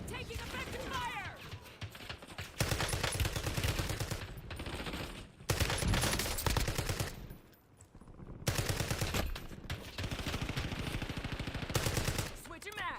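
Bursts of automatic gunfire in Warzone, long dense volleys of rapid shots broken by brief pauses, loud and close, with a voice speaking over part of the action.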